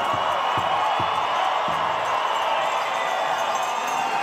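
A crowd at a powwow grand entry cheers in a steady, dense roar throughout, with a few drumbeats early on and no clear break in the noise.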